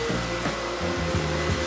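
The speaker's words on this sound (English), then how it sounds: "This confetti is longer and tougher than expected, and it's already tangling the vacuum." A robot vacuum cleaner churns through long, tough red and white paper confetti, giving a loud steady motor whine with shifting, strained tones as the strips tangle, continuous and close with no voices.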